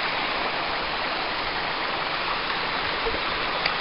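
Cold mountain spring water flowing from a fountain on the trail up Ben Nevis, a steady close rush of splashing water with no breaks, loud and alone.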